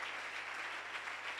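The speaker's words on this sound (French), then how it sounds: "give the Lord another big clap offering" Church congregation at a spiritual renewal service with fasting and prayer, giving a big round of applause, a brief dense wash of clapping heard at moderate distance.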